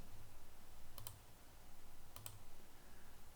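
Mouse clicks pressing an OK button in modeling software, two quick faint double-clicks about a second apart over a low steady hum.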